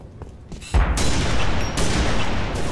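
Loud bursts of gunfire in the video game Halo, a heavy volley kicking in after a quiet start and a second burst a second later, sustained and dense with booming impacts.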